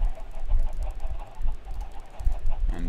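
Chickens clucking in the video game Minecraft, a steady run of short low clucks and fowl calls repeating close by over a continuous game background, with no talk.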